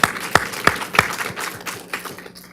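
An audience at a veterans and refugees panel gives a round of applause. A few sharp, distinct claps lead into a short, moderate patter that fades out within seconds, with no talk over it.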